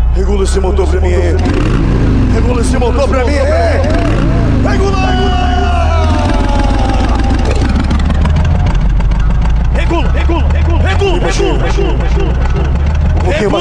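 A loud carbureted Volkswagen Passat engine idles and revs repeatedly at a car meet in Colares, its pitch rising and falling, while excited voices shout over the roar throughout.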